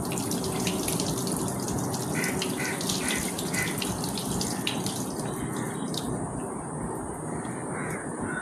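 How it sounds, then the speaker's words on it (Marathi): Tap water runs steadily and loudly over hot, partly cooked rice being rinsed in a home kitchen, a continuous splashing wash with no talk. "आता हा गरम भात आहे, जास्त ओव्हर कुक होऊ नये म्हणून धुवून घेऊया"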